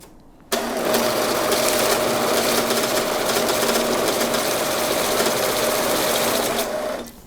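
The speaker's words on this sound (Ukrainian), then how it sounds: "поїхали сортувати купюри" A Kisan Newton banknote sorter runs through a stack of hryvnia notes, a sudden start into a dense, steady mechanical whirring and rapid fluttering that holds for about six seconds before cutting off.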